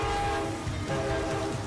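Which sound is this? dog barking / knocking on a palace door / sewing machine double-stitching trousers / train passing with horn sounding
train passing with horn sounding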